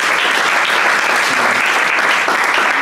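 A church congregation at a sermon bursts into loud, continuous clapping that fills the room, dense and unbroken from start to finish.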